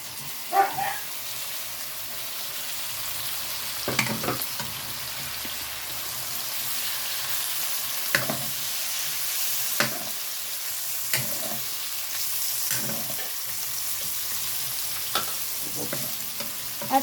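Pork steak frying in a pan, a steady hiss of sizzling fat broken by periodic sharp clatters and scrapes of stirring or turning the meat, close and alone without talk.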